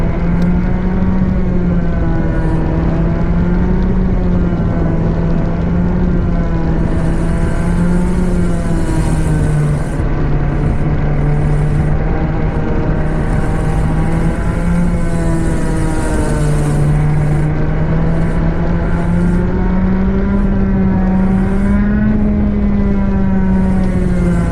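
A 100cc two-stroke kart engine being run in, droning loudly and steadily throughout with its pitch rising and dipping as it revs, while a hand over the airbox chokes it now and then.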